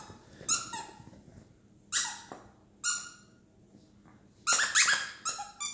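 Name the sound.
dogs playing with squeaky toys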